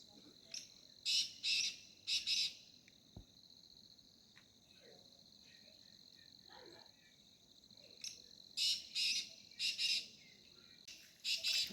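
Partridge (titar) calling in the rainy season, loud repeated bursts of harsh shrill notes in clusters, alone over a quiet background of faint insects.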